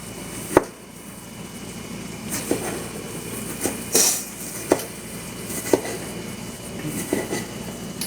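A knife slices food in half on a home kitchen cutting board, giving a series of sharp, separate taps spaced a second or so apart over a low steady background hum.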